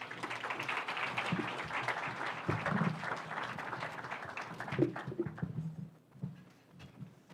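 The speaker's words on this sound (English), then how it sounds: "Kindly let us give him a round of applause." Audience applause at a Development Partnership Forum, a steady wash of clapping from a seated crowd lasting several seconds before tapering off, with a few louder bursts toward the end.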